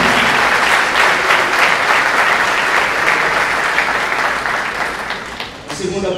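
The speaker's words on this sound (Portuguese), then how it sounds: "pode aplaudir o Senhor" A church congregation applauds during a worship service, with dense, sustained clapping that fills the room and tapers slightly near the end, alongside a few scattered voices.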